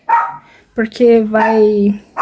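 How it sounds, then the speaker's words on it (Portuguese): A house dog barks and yelps loudly at the door in short, sharp outbursts with drawn-out tonal cries, close by, and a voice is also heard. "E meu cachorro, ele avisa quando as pessoas estão na porta."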